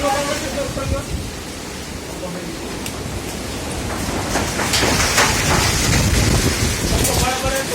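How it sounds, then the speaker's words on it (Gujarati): Strong storm wind roars in a broad, rushing noise that grows louder midway, with people speaking over it at a temple. "પવન ચાલુ થઈ ગયો છે અત્યારે"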